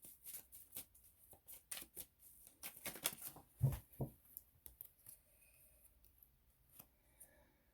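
A Love Oracle card deck being shuffled by hand, with quick papery flicks and riffles in bursts over the first few seconds, close and fairly quiet, then a tail of faint handling noises and no talking.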